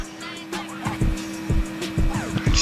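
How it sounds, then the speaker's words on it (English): A car in a video game drives through a desert area, its engine revving and shifting in repeated surges with brief tire squeals, loud and close, with faint background noise. "Just going through the station in a car."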